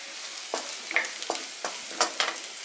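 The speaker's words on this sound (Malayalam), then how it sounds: "സബോള നല്ല ബ്രൗൺ കളർ ആവണ വരെ നമുക്ക് വഴറ്റിയെടുക്കാം" Onions browning with curry leaves in a pan for Kerala-style chicken curry, with a soft sizzle under repeated light scraping strokes of a spoon, close and fairly quiet.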